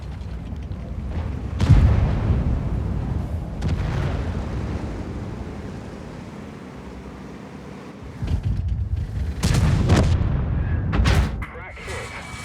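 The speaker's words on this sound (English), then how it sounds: "Stupid ass artillery" Artillery fire in World of Tanks: several heavy booms with rumbling tails strike at irregular intervals, the loudest near the start and a cluster toward the end, over a low engine drone.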